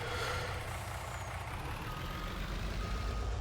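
A truck in Farming Simulator 19 backing up toward a trailer, with steady repeating reverse-warning beeps over a loud continuous engine rumble that stays close and constant throughout.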